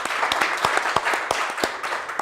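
An audience applauds police officers' families, with crisp, fairly close clapping that carries on steadily throughout and no talk over it.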